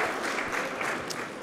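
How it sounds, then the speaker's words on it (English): A crowd at a town hall meeting claps steadily, a brief burst of dense applause filling the room. "We can give them a round of applause."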